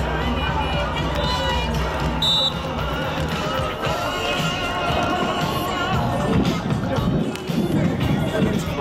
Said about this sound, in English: And there's a crowd behind me.